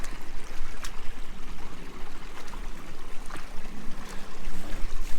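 A boot being washed off in a cold mountain stream: steady rushing, babbling water close by with scattered splashes and sloshes, no talk.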